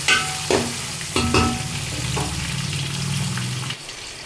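Chopped tomatoes sautéing in a pan for a fish curry, a close, dense sizzle with a few stirring scrapes near the start, running steadily and then dropping off at the end, with no voices.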